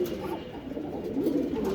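Soft, low pigeon cooing murmurs steadily throughout, a continuous rolling coo with no voices.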